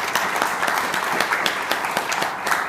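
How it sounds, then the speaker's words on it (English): An audience at a university scholarship announcement claps steadily, a dense even patter of many hands that continues throughout, moderately loud. "Let's give her a round of applause."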